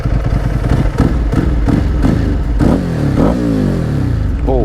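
A 2006 Ducati 749 twin-cylinder motorcycle engine idles loud and close, then revs up several times in rising and falling swells before settling back.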